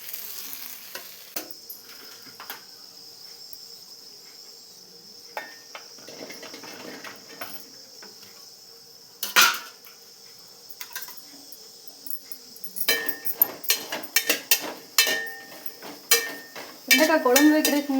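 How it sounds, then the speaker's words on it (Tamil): Okra is sautéed in a dry, oil-free pan and stirred with a utensil, giving scattered scrapes and light clinks over a low hiss, growing busier and louder toward the end, with no one talking. "நம்ம இதை எடுத்துட்டு இனி வெண்டைக்காய் வந்து வெறும் சட்டியில் கொஞ்சம் வணக்குவோம் பார்த்தீங்களா,"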